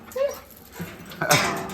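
A puppy whimpers and yips in short high-pitched bursts, close by, with a louder whiny cry near the end.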